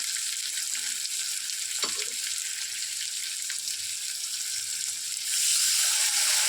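Tomato and spice mixture fries in a pan with a steady close hiss, and a splash of water late on sets off a louder, brighter surge of sizzling.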